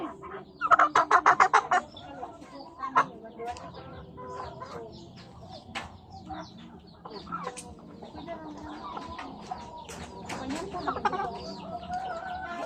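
Chickens cluck and squawk nearby, with a quick burst of rapid clucks early on, then scattered calls over a low background murmur.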